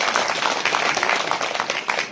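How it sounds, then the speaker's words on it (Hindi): An audience at a Hindi comic poetry gathering (hasya kavi sammelan) in Lakhimpur Kheri breaks into loud, dense clapping that stays close and sustained throughout. "बाकी आप जोरदार ताली बजा दो"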